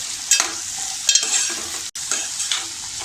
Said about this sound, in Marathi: मी आता 2 मिनटं बटाटा परतून घेतला आहे.